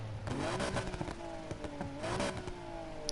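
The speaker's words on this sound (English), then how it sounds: "It's probably the best best sounding i6 I've ever heard." An inline-6 car engine revs in Need for Speed Heat, rising and falling in steady sweeps at moderate volume with no talking over it.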